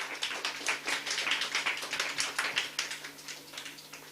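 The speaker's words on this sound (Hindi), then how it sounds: "एक बार जोरदार ताली आप सभी के लिए।" A boot camp crowd claps together indoors. Fast, dense hand claps rise and fall in waves, fairly loud and close, then thin slightly toward the end.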